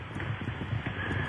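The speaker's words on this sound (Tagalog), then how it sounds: "Inihanda ko na yung karwahe, ha? Ito na yung mga kabayo mo." Horses pulling a carriage clip-clop in a steady rhythmic patter of hoofbeats, moderately faint, over a broad background hiss for a brief stretch.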